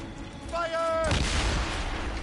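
Cannon fire from a ship's broadside in Assassin's Creed Rogue: a shouted command, then a loud, heavy boom that rolls into a sustained rumbling roar.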